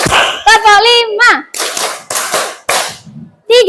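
Children in a classroom chant counts aloud during a counted clapping routine, with sharp bursts of clapping falling between their voiced words.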